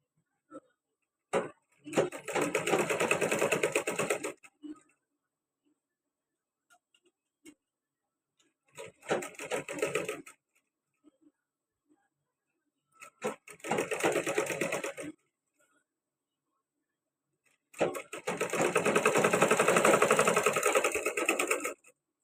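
A sewing machine stitches a blouse in four separate bursts of rapid, even ticking, each lasting a few seconds, close and clear, with quiet pauses between them.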